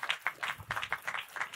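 An audience applauding at the signing of the Crown Bay district redevelopment agreement, a quiet, thin round of individual claps with a loose uneven rhythm, heard from some distance.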